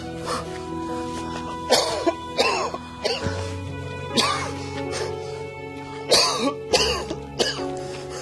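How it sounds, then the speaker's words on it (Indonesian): An old man coughs badly, several harsh hacking coughs and throat clearings coming in irregular bursts nearby, with some speech between them. "Batuk Bapak parah banget sekarang."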